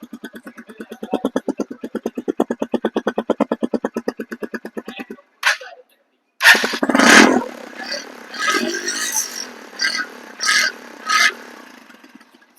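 A 2025 Bajaj Pulsar 125cc motorcycle with a very short muffler idles with a steady, rapid thump for about five seconds, cuts out briefly, then restarts with a loud burst and keeps running unevenly with several sharp revs, close by.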